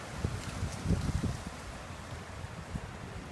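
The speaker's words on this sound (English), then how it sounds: "The wind is going crazy on us." Strong outdoor wind buffets the microphone with low rumbling gusts, loudest in a burst near the start and then easing into a steady blustery roar, with no voices.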